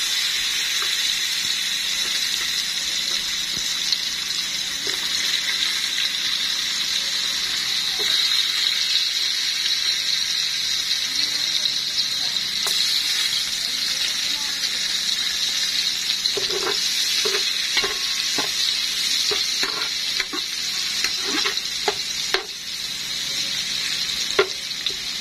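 Onions go into a pan of garlic browned over low heat, giving a steady loud sizzle that hisses throughout, with scattered scraping clinks of stirring toward the end and no talking.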